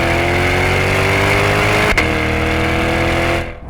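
A 2020 C8 Corvette's mid-mounted engine runs loud and close in a steady, droning rev, with a brief sharp blip midway, then cuts off abruptly near the end.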